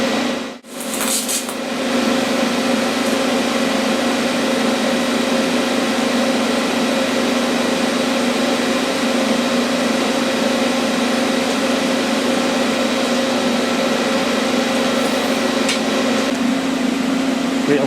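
A TIG welder hums and buzzes steadily while welding a handle, a continuous tonal drone that holds almost unbroken after a brief gap at the start.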